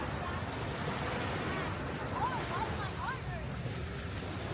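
Waves wash steadily at Alki Beach in Seattle, heard from a kayak on the water, a continuous surf roar mixed with wind buffeting the microphone.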